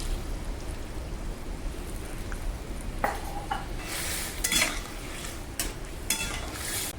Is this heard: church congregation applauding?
no